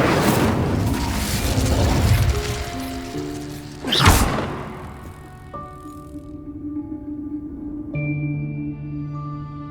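The Incendio fire spell in Hogwarts Legacy bursts with a sudden loud whoosh midway through a rumbling game soundscape, followed by sustained musical tones and ambience.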